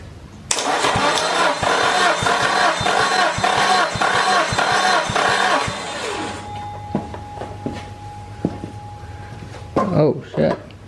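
An SR20DET VCT engine cranks over during a compression test, a loud rapid rhythmic churning of the starter for about five seconds before cutting off, followed by quieter clicks and shuffling; a voice is faintly present.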